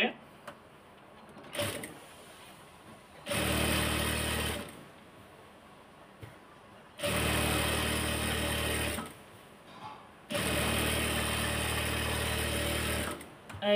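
A sewing machine stitches a salwar in three loud, close runs of rapid whirring, separated by quiet pauses with a few small clicks and soft handling sounds.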